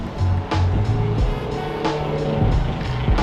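A few cars pass along a road, their engine and tyre noise swelling and fading over a steady background hum.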